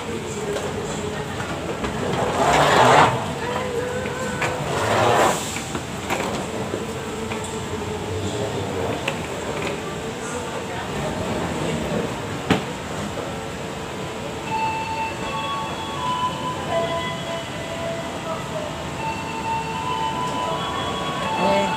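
A train arrives at a station on a trip to Tangkuban Perahu near Lembang, Bandung, with a steady loud rumble, passing clunks and brief metallic swells early on and no voices.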